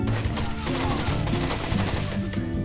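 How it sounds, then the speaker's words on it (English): Shotgun blasts fired through a fence during a Rainbow Six Siege Terrorist Hunt match on the Havana map, with rapid loud gunfire bursts over dense in-game action and music. "That guy trying to shotgun through the fence there, knowing his shotgun is going to have maximum penetration."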